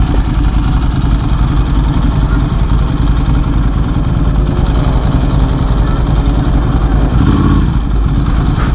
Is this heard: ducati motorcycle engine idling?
yes